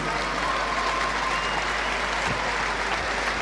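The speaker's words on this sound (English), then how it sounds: "Give a nice round of applause" A boxing crowd applauds after a 1992 Prince Naseem Hamed bout. The dense, steady clapping is loud and continuous throughout, with no clear voices above it.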